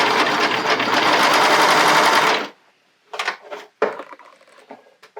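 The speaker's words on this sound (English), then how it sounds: "I'm doing it on my cover stitch machine" A cover stitch machine top-stitches picot elastic on a bodysuit, running in a loud steady mechanical whir for about two and a half seconds before stopping, followed by a few short bursts of handling sounds.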